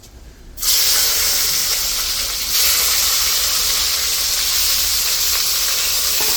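Potatoes drop into hot oil with a sudden loud sizzle that bursts on and holds as a steady, close frying hiss, with no talking, while a pumpkin fry and a potato, stem and puti fish curry are cooked.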